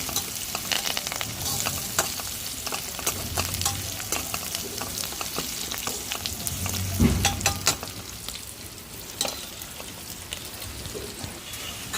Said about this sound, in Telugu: ఉల్లిపాయ, పచ్చిమిర్చి, కరివేపాకు అయితే వేగింది కదా, టమాటాలు వేసేసుకున్నాం.